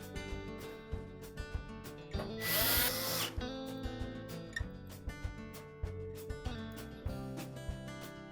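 A power drill whirs in short bursts, with one longer run, driving screws back into the back panel of a GE range, close and moderately loud among light handling clatter, with no talking.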